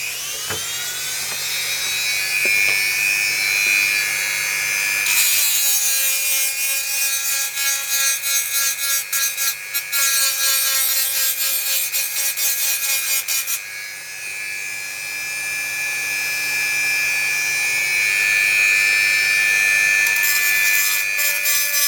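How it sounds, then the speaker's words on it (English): A Wickes multi tool fitted with a grinding stone runs steadily and loudly on its own, a high whining buzz with a harsh abrasive grinding section in the middle before it eases back to a smoother whine. "just test out one of these grinding stones"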